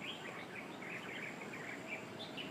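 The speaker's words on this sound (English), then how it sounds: "you can hear at least 4 varieties of birds here in the trees" Several kinds of birds chirp and call from the trees of a city park at an old Portuguese fort in Macau, steady faint twittering overlapping throughout over a soft background hum.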